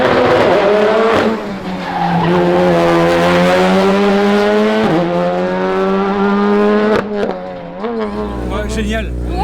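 Modern rally cars at a stage of the Rallye de la Côte Fleurie 2025 race past one after another, engines roaring loud and close with tyre skids, while spectators talk over the noise.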